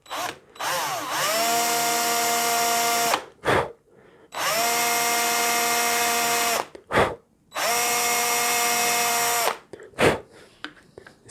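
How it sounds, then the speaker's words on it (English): A power drill with a standard drill bit boring through a guitar headstock runs in three long, loud whining bursts that rise to speed and hold steady, with short pauses between them. "to drill through with the standard drill bit."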